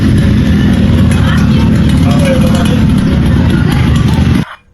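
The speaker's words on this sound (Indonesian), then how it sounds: "Saya akan menampilkan beberapa suara motor atau suara kendaraan yang berhasil kita dokumentasikan untuk contoh dari adanya suara knalpot yang bising" A motorcycle with a noisy, loud exhaust rumbles close and continuously in a deep, steady drone before cutting off abruptly at the end.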